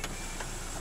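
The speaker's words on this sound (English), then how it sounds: "Just check the sunroof works." Electric sunroof motor on a Subaru Forester 2.0 XT automatic, giving a brief, steady close-up whir with no speech.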